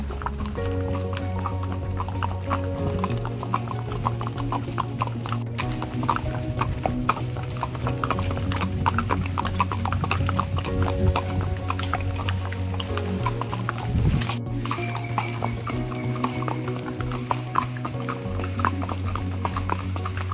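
Horse hooves clip-clop at a steady walking rhythm on a ride at the Matheran hill station, close and continuous for about twenty seconds, with a faint background tone underneath.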